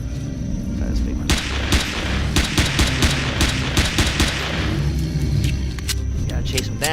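Gunfire in the space survival game Empyrion Galactic Survival rings out as a rapid series of sharp shots with booming, rumbling impacts, repeated in quick bursts while someone talks over it.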